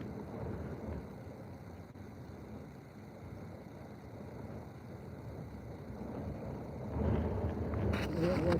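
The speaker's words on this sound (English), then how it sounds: "You got about 7 to 10 mile per hour winds that are kicking up." Steady wind blowing outdoors at a trout stream in south-eastern Minnesota during fishing, a continuous low rumble buffeting the microphone that grows louder and gustier near the end.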